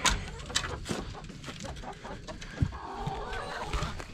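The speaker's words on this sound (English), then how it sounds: "All right, Sadie, we're gonna let the chickens out." Chickens cluck softly and intermittently close by, with scattered short calls over a steady outdoor background.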